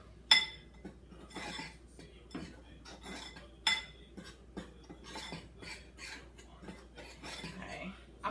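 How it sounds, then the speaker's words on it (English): A utensil stirs adobo seasoning into chicken pieces for fried chicken, making close clinks and scrapes against the bowl, with two sharper metallic knocks and soft, steady mixing between them. "Stir all that around."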